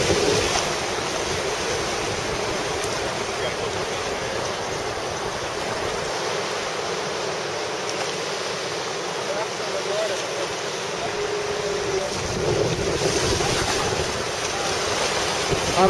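Whitewater rapids on a river roar steadily during a rafting trip, a broad rushing wash mixed with wind buffeting the microphone, loud and continuous throughout.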